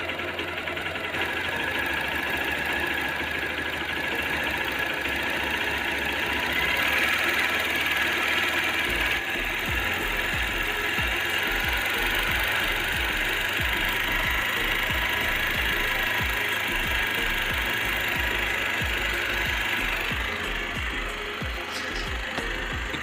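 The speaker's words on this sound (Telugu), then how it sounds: "ఒక 2 లేదా 3 రౌండ్లు తిప్పుకోవాలి, బండి రేసింగ్ అవ్వడం స్టార్ట్ అవుతుంది" A motorcycle engine with a cut accelerator cable runs close by while the throttle is turned by hand, holding a steady, busy mechanical chatter for the whole stretch with a slight shift partway through, and nobody speaks.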